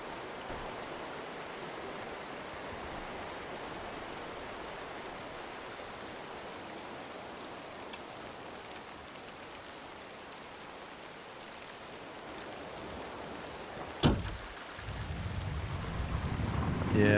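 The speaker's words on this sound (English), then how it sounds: "I wonder if, like, the game takes into account the noise of the rain," Rain falls steadily in the hunting video game Way of the Hunter 2, a soft continuous hiss with a sudden knock near the end as the noise swells.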